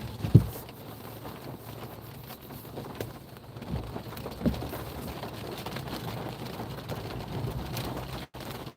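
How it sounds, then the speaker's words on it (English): Heavy thunderstorm rain in southern Indiana pours in a dense, steady wash of drops pattering on nearby surfaces, with a few sharper knocks early on and the downpour holding at an even, moderately loud level without speech. "And it's raining like crazy."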